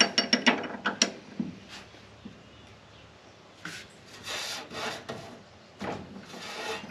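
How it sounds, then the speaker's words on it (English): A wrench works on a jam nut atop a Ford Model A steering box, with a quick burst of close metallic clicks and ratcheting at the start, then quieter scraping and handling noises. "I'm going to loosen up this jam nut on the top of the steering box for the adjuster stud here."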